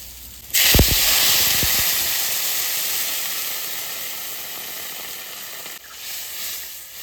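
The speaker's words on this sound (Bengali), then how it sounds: "সুন্দর করে কষাই নিচ্ছি লাল লাল করে এবার আমি জল দিয়ে দেবো" Water is poured into spice paste frying in a pan, setting off a sudden loud sizzling hiss with a few quick splashes that slowly fades into a steady simmering fizz.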